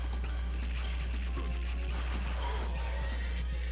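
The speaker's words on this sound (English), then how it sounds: "He's got a demon horse. I'd like to point that out. A demon horse." A demon horse in a video game neighs with a long, shrill whinny over trotting hoofbeats, moderately close and set against a steady low background drone.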